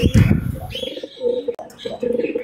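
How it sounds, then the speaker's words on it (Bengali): Pigeons coo in low, soft, rolling calls, repeated several times close by, with brief higher chirps early on. "এই যে আমার এইখানে আছে একজোড়া কবুতর"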